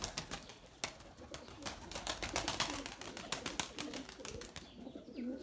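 Pigeons at a rooftop loft in flight season coo softly amid a busy patter of wing flaps and clattering taps, a steady moderate level with no voices.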